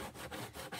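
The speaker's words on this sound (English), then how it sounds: "And then I'm going to take my paste scraper." Short, close rhythmic rasping of a paste scraper dragged back and forth across a surface, four quick strokes with brief gaps between them, alone and fairly quiet.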